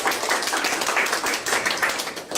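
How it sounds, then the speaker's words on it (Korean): An audience at a startup networking forum claps together, a steady dense patter of hands from a roomful of people lasting a couple of seconds. "우리 박수 한번 칠까요?"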